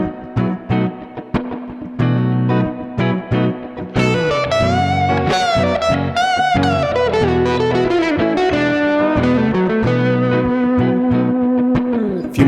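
Blues rock electric guitar lick in minor pentatonic, played with soaring string bends and sustained, gliding notes over a steady low drone. The tone is distorted and loud, with no voices.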